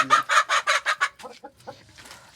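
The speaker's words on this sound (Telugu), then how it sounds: "ఈ కోళ్ళు ఇట్లా తవ్వుతున్నాయి ఫ్రెండ్స్" Chickens scratch at the ground and cluck close by, with a quick run of loud, rhythmic clucks that fades into quieter scattered calls and rustling.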